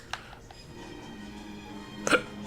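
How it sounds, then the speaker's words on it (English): A short cartoonish burp pops out of the Link's Awakening game soundtrack near the end, bright and brief over steady background music. "Yeah, burping!"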